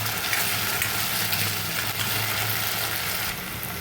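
Potatoes frying on high heat in mustard oil, a steady close broadband sizzle with faint crackle that holds evenly throughout and eases slightly near the end.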